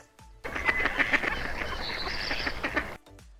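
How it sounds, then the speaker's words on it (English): A farm duck quacks repeatedly in a rapid, close, loud run of harsh calls lasting a few seconds, with quiet before and after. "duck"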